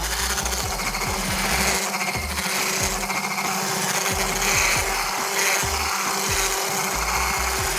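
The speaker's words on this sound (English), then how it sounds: "Whisk, whisk, whisk." Butter and cinnamon roll cake batter are whisked by hand in an RV kitchen. Rapid, rhythmic rasping strokes run continuously, close and loud, with no talking.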